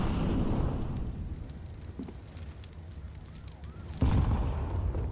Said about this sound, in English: Not a bad nade.